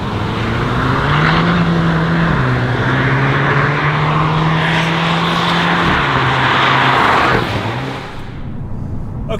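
Hyundai Kona N hot hatch driving on a very wet B road, its engine note loud and steady with pitch shifts between gears, tyre and spray noise throughout, easing off near the end.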